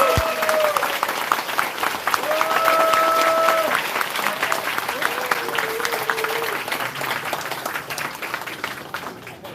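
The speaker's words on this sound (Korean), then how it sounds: "축하 말씀 해주신 구청장님과 의원님들에게 뜨거운 박수 부탁드리겠습니다." Party members applauding at a local party convention, a sustained crowd clapping close by, with faint tonal sounds and murmured voices drifting underneath.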